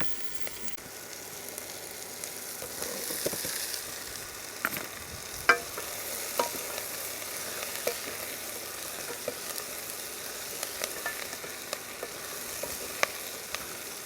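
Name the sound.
butternut squash frying in a pan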